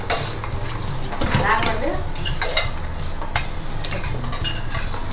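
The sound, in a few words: stirring dosa batter in a bowl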